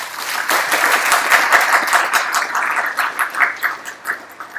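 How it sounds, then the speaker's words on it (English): An audience applauds at the BCS Mauritius IT Award Ceremony 2017. The clapping is dense and steady, with loud sharp hand claps close by over a broad crowd wash throughout. "I think you all deserve a very good round of applause."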